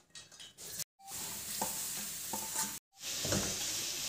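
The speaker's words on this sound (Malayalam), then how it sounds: "ഇനി നമുക്ക് സവാള ഇട്ട് കൊടുക്കാം." Sliced onions frying in hot ghee, giving a dense, steady sizzle with soft stirring scrapes, broken by two brief silent cuts and resuming at full strength each time.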